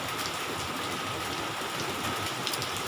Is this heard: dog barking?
no